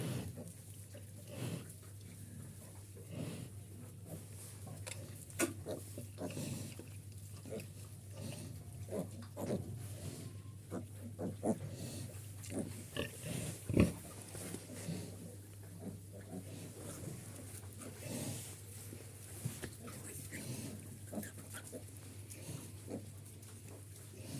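Pigs grunt and snuffle continuously at close range in a pig barn, a sow with piglets, low irregular oinks over a steady background hum, with scattered thumps and shuffling.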